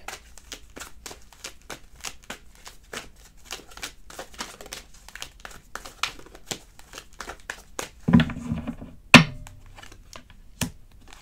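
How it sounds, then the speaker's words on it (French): Tarot cards are handled and laid onto a table in a long run of crisp, irregular taps and slaps. A few louder rustles and thumps come near the end. It is close, with no voice. "Je sais pas si ça fait trop de bruit quand je pose les cartes sur la table."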